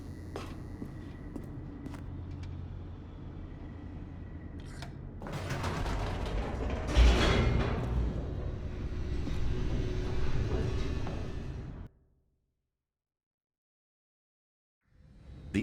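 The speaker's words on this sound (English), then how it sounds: "The elevator raced downward," A mechanical elevator descends in The Stanley Parable: Ultra Deluxe, with steady rumbling, clanking gears and creaks that build to a loud jolt, then cut off abruptly into silence before another sound begins.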